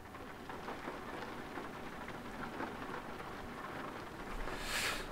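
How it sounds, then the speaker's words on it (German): Steady rain falls on a surface, a continuous soft hiss and patter at low volume with a brief louder rumble near the end, no voices. "Es regnet immer noch."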